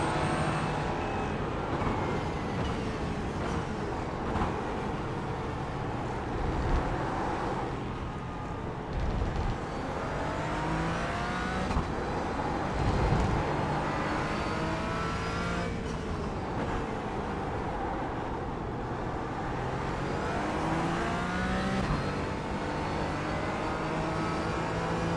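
Sports cars race at Algarve in the iRacing Falken Sports Car Challenge, engines droning and revving up and down through repeated gear shifts as other cars close in and pass nearby. The steady, moderately loud engine noise continues without any talk.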